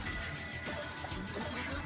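Glass Blaster weapon in the shooter Slayers X, a sharp glassy smash with bright high crackle over a busy game background, fairly quiet and quick.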